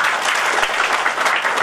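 A business presentation audience breaks into steady, dense applause, a continuous wash of many hands clapping close by with no voice over it.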